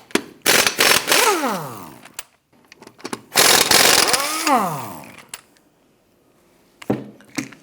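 Lug nuts come off a front wheel of a 2008-2013 Nissan Rogue in two loud bursts of an impact wrench whining down, followed by a few clanks and rattles close by.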